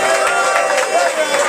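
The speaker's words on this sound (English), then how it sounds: "Once again, a big round of applause for Crush and Oscar Ranks." An audience at a London dance-battle event applauding and cheering, a dense burst of clapping and shouts filling a brief moment at close range.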